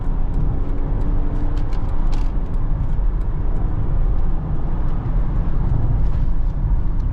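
A 2008 Mercedes-Benz E320 CDI with its 224 hp V6 diesel and 7G-Tronic gearbox accelerates on a windy road, a steady low engine drone heard from inside the cabin with constant road rumble and no talking.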